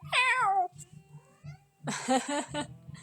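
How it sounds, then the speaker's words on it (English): A cartoonish cat yowl sound effect cries out with a falling, wavering pitch, and a second harsh, strained yell follows, over a soft low pulsing hum; no glass shattering stands out. "Cue glass break and cat yell sound effects."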